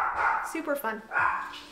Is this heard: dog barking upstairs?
yes